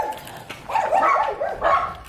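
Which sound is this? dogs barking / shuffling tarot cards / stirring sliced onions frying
dogs barking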